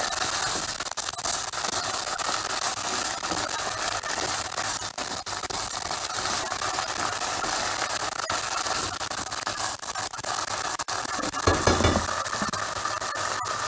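Green lentils, onion and tomato paste sizzle steadily in a pan while being stirred, a continuous close hiss broken by occasional scraping stirs.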